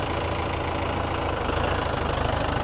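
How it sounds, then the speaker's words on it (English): A small diesel tractor engine runs steadily nearby, a loud continuous rumble with a fine rapid knock throughout and no pauses. "Nice little diesel tractor for"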